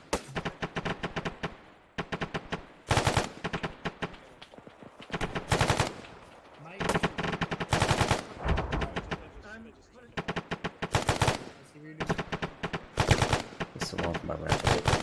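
Rapid automatic gunfire and single shots from Arma 3, loud bursts repeating in clusters with short pauses, some heavy booms mixed in, with a voice talking over the combat.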